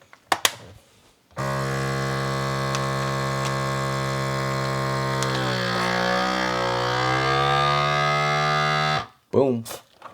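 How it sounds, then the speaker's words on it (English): A vacuum sealer runs steadily on a bag of filleted wild salmon, its motor a sustained, even hum for several seconds that shifts slightly in pitch partway through, then cuts off abruptly into brief rustling. "I'm gonna go ahead and vacuum seal those"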